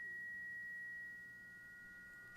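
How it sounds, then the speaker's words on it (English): Self-oscillating spring reverb in a modular synth, a faint steady pure tone that rings on without change over low background hiss and slowly fades slightly. "This is just a spring reverb that's self-oscillating"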